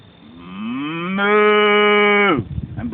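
A man imitates a cow with his voice, giving one long, loud, close moo that swells and then falls away, with no other sounds.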